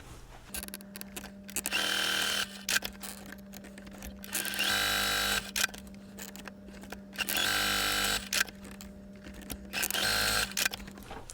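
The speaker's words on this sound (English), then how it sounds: "we're going to sew a line from corner to corner on all of these squares" A home sewing machine runs in several bursts of steady, buzzing stitching, each a second or two long with short pauses between, as quilt squares are sewn corner to corner; close and loud, with a constant low hum underneath.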